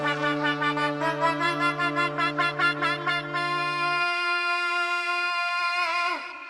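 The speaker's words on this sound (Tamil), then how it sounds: "இதுதான் வந்து த சவுண்ட் ஆஃப் ஜெயிலர்." A horn-like synthesized theme tone for the Jailer film score, layered with mixing effects: a sustained, pulsing brassy drone with a low bass tone that drops out midway, then a bright held chord that fades near the end, no talking.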